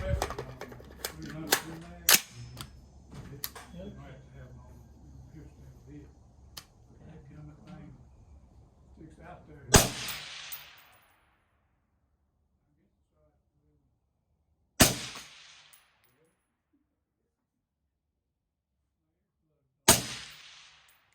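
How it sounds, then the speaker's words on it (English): Suppressed rifle shots from an Aero Precision 16-inch rifle fitted with a Dead Air Sandman S suppressor, firing 55-grain rounds at a 100-yard range: sharp, close reports spaced several seconds apart, the first coming after someone talks. "We're going to shoot five-shot groups at 100 yards and see what we can get."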